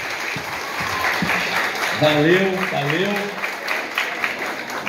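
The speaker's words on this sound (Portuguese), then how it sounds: "Ofereça um forte aplauso ao Senhor Deus." Applause from the audience at a municipal school's anniversary ceremony, a steady background of clapping while someone speaks briefly over it.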